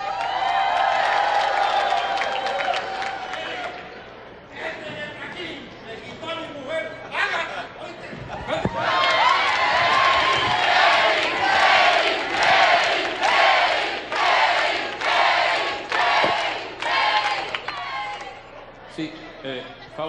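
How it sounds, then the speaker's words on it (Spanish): A television studio audience claps and cheers as a guest is welcomed onstage, a host speaking first and then loud rhythmic applause and whoops swelling through the rest. "vamos a recibir con un fuerte aplauso al esposo de Agatha, a Fausto."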